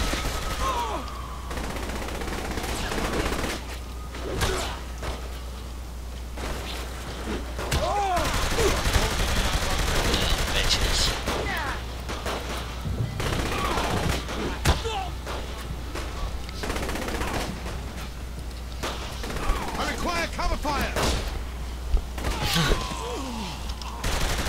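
Gunfire in Saints Row The Third crackles in repeated volleys over about twenty-five seconds, sharp shots scattered over a steady game backdrop, some near and loud, others fainter.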